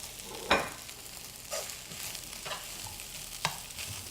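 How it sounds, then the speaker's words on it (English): Thai fried rice with peas, onion and carrot sizzles quietly in a pan, with a soft background hiss and about four sharp stirring scrapes spaced roughly a second apart. "I'm gonna let the peas and onion, the carrot cook a little bit."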